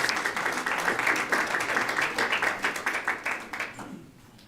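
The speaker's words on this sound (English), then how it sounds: "please hold your applause" Applause at a city council meeting: a few seconds of clapping with rhythmic individual claps throughout, tapering off at the end.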